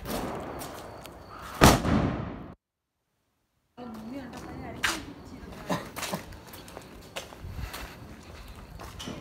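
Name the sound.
Diwali firecrackers bursting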